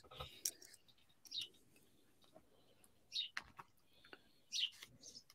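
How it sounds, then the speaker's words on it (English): Birds perched on an air conditioner outside a window give faint, scattered chirps and short tweets in a few separate bursts, distant and quiet over a soft background. "Hear the birds? Those are God's birds."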